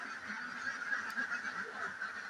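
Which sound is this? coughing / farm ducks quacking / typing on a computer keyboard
farm ducks quacking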